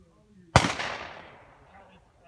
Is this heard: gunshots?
yes